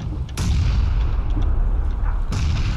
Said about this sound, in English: 3 grenades straight up